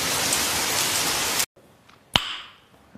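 A dense hiss of rain pours steadily, then cuts off abruptly into near silence, broken by a single sharp knock.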